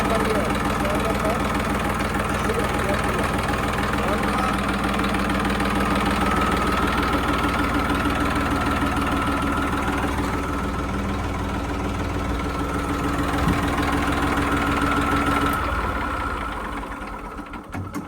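An Eicher tractor's engine idling close by, a steady, rough, knocking diesel rumble that holds evenly and eases off slightly near the end, with someone talking over it.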